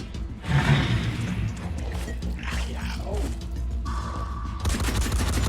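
Bursts of gunfire in the turn-based tactics game Phoenix Point crackle in quick volleys amid game effects and a brief tonal cue, with a voice speaking intermittently over the shooting.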